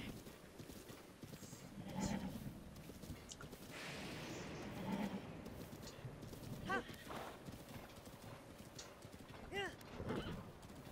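Horse in Breath of the Wild, with repeated hoof clip-clops and a couple of whinnies, fairly faint beneath someone talking throughout.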